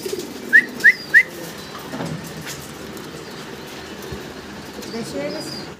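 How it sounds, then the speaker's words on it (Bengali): Pigeon calls from caged teddy pigeons at a farm: three short bright notes near the start over a steady background murmur, then only faint scattered chirps. "হ্যাঁ, টেডি কবুতর দেখতেছেন।"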